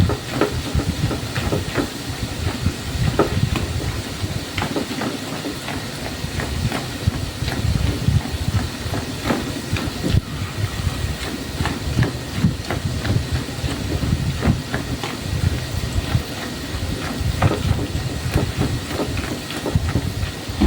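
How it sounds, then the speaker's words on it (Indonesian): Cookie dough fries in hot oil over medium heat, giving a continuous close sizzle and hiss with dense crackling pops throughout. "Ini mau kita goreng sampai dia matang ya."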